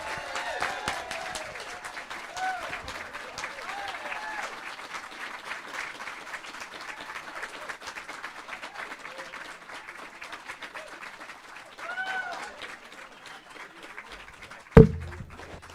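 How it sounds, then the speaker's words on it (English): A live studio audience breaks into sustained applause to welcome Charlie Kirk and Alex Marlow at Turning Point USA headquarters. The clapping stays steady and full for most of the stretch, then fades out, with a sharp bump near the end. "Can you guys give them a loud round of applause and welcome them"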